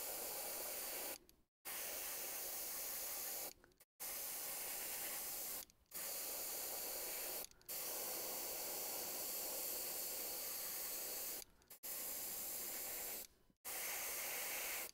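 An airbrush sprays paint in long, steady hissing bursts for flesh-tone underpainting, separated by brief silent pauses, close and even in loudness, with no speech.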